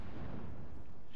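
A frag grenade detonating in the Apex Legends video game, a single loud, rumbling burst that fills the whole moment and decays into a low roar, close and heavy.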